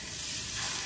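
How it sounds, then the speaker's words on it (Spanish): Washed, drained rice frying in a little oil, a steady bright sizzle that stays loud and even throughout, with no voices. "le agregamos poquito aceite, agregamos el arroz que ya lo tenemos lavado y escurrido"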